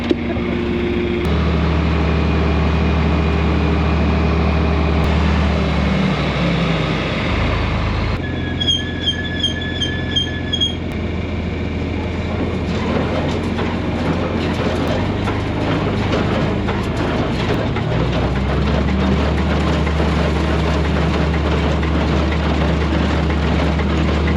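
A small combine harvester engine running steadily through a ride, a loud continuous mechanical drone with clanking and rattling, a brief shift in pitch partway through, close and without talking.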